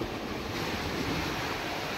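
Strong wind roars steadily across the sea during heavy rain near Palawan, a dense, constant rush with surf-like wash and no voices.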